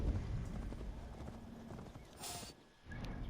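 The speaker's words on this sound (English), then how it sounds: "It has horse noises though." A bear mount in Assassin's Creed Valhalla plods with continuous clip-clop hoofbeats and gives a horse-like whinny, set against a dense game soundscape.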